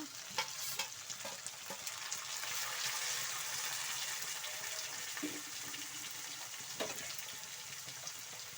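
Chopped capsicum, tomato and coriander tumble into a hot frying pan, setting off a steady sizzle with stirring scrapes and brief clatters throughout, loud and close with no talking.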